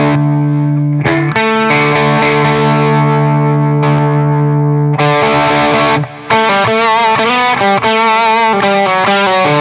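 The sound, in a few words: guitar treble booster pedal distortion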